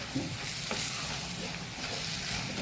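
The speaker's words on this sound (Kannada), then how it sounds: "ಹಸಿ ವಾಸನೆ ಹೋಗುವವರೆಗೆ ಇದನ್ನೀಗ ನಾವು ಫ್ರೈ ಮಾಡ್ಕೊಳ್ಳೋಣ" Peas and fenugreek leaves frying in a pan give a steady, close sizzle with faint scrapes of stirring, continuous and even throughout with no voices.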